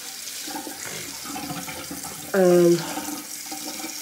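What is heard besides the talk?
tap water running for washing face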